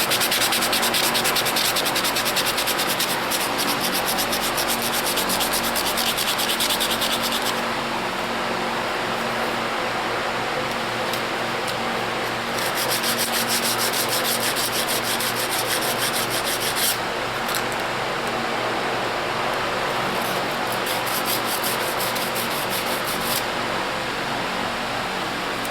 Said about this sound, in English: This is just some 320 grit sandpaper.